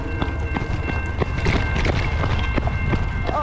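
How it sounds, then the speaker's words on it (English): A train passes close by with rhythmic clacking of wheels over rail joints and a steady loud rumble, heard from the roadside near a cyclist. "the train is coming"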